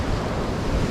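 Rough sea surf breaking near the shore during a spinning fishing trip, a brief loud wash of waves mixed with wind buffeting the microphone.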